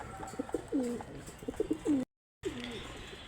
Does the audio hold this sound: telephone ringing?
no